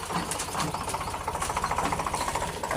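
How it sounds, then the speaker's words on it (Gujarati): A tractor passes close by on a farm, its engine giving a steady, rapid chugging pulse at moderate volume throughout. "જો ટ્રેક્ટર નીકળો છે અવાજ આવે છે"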